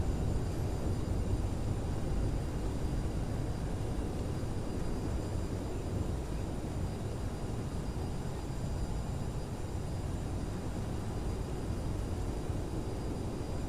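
A steady, broad rumbling roar from the thrust reversers of an Air France CRJ-1000 landing at Naples in Microsoft Flight Simulator 2020, continuous and even throughout.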